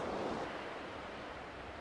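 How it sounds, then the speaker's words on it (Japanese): A river current in a valley rushes against the outer bank at a bend, a steady broadband wash of flowing water, close and continuous, with no voices. "そばで見るとご覧の通り流れが外側の岸にぶつかっています。"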